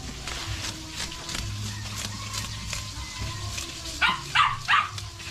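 Dogs bark three times in quick succession near the end, over a background of low rumbling noise and faint distant barking.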